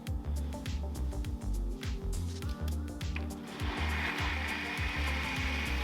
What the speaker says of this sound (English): After all the ingredients are in the food processor, I'm just gonna give it a quick, short, sweet little blend